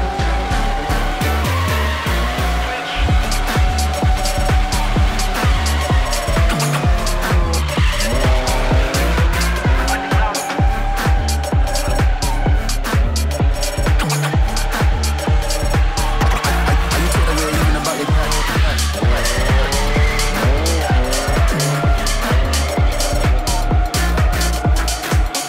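Race cars drift around a speedway with engines revving hard and tires squealing continuously, loud and close, with repeated surges of throttle and skidding throughout.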